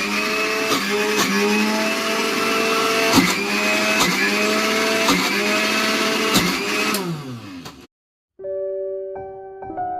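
A kitchen mixer grinder whirs loudly and continuously while grinding soaked urad dal, the motor pitch dipping briefly as it stops, then restarting at a lower hum.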